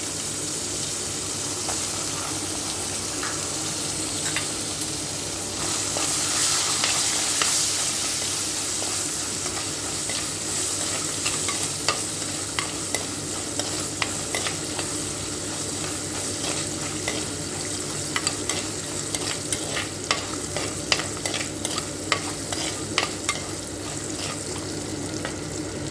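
Coconut pieces sizzle and fry steadily in hot oil, close by, with frequent sharp crackles and the scrape of stirring building up toward the end.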